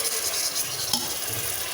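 Jackfruit pieces stirred and sautéed in biryani masala in a pan, a soft continuous scraping and sizzle with a brief louder clatter near the middle, steady and close.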